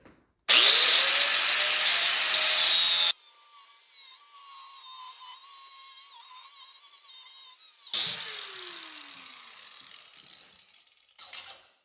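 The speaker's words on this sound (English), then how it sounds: "I just cut it off with an angle grinder" An angle grinder cuts through a steel rasp being made into a forged knife: a loud, close, harsh shriek for a few seconds, then a fading whine as the disc spins down, followed by a second shorter cut.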